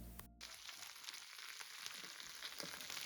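Potatoes fry in a pan in a home kitchen with a steady, close crackling sizzle that continues evenly throughout, with no talking.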